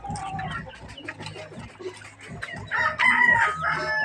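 Backyard chickens cluck in bursts close by, and a rooster lets out a loud crow near the end, over faint background noise at feeding time.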